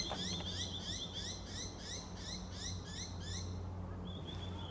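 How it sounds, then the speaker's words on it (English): Birds sing outdoors in a quick repeating series of bright chirping notes over a low steady background hum, the chirps running in a regular rhythm for several seconds before a single sustained call near the end. "the birds ring out right when we finish that"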